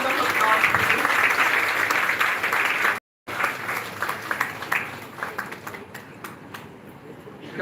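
An audience at a bioethics session applauds as dignitaries are welcomed, dense loud clapping that briefly drops out, then thins into scattered claps and tapers off.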